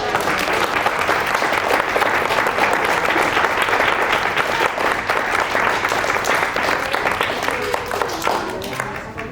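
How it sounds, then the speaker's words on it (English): Sustained applause fills a medal ceremony, loud and dense throughout, with a few voices faintly mixed into the clapping crowd. "Huge round of applause."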